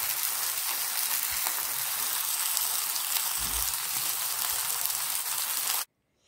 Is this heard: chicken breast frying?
yes